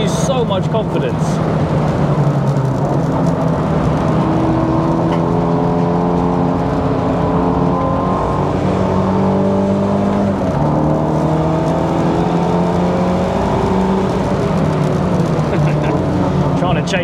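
A REVO 450 bhp track-spec Audi A3 8P laps a race circuit, its engine droning loudly and steadily with rising and falling pitch through gear changes, heard from inside the cabin under a driver's talk.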